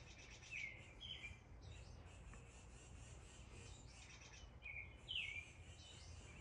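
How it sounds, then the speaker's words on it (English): Faint birds chirping outdoors in a backyard, a few short high calls over a steady background hiss, fairly distant. "You can hear the birds in the background."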